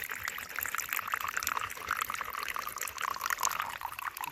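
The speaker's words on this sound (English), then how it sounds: "you squeeze it through the Sawyer Squeeze" Puddle water squeezed through a Sawyer Squeeze filter runs out in a steady, close trickling stream, continuous and fairly soft with no talking.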